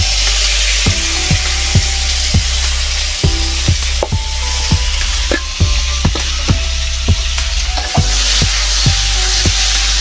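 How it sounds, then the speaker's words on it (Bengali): Tomato frying in hot oil with panch phoron, giving a steady loud sizzle broken by repeated sharp clicks of a spoon or spatula striking the pan, close up and with no voice. "এতে টমেটোটা ছেড়ে দিলাম তেলে।"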